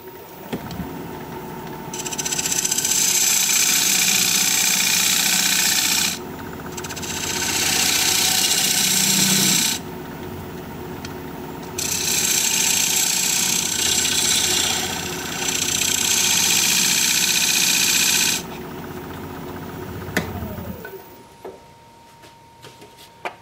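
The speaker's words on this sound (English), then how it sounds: "I'm going to use my dovetail tool here to create a dovetail on the inside of this recess" A wood lathe spins a bowl blank while a dovetail tool cuts inside its recess. The motor hums steadily beneath long, loud scraping bursts separated by brief pauses, and the motor winds down at the end.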